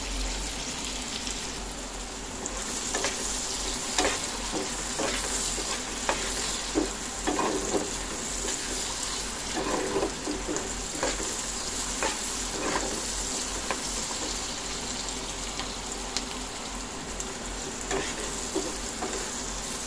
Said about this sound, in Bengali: ভালো করে ভেজে নিলাম। বেশি ভাজবো না